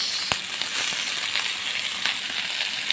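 Carrots sautéing in a pan, with a steady broadband sizzle and a few sharp spatula clicks scattered across it, close by and alone with no talk.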